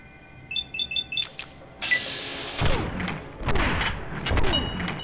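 In Fallout New Vegas, a few quick electronic beeps sound first, then a turret opens fire in loud, rapid bursts that boom and echo over several seconds.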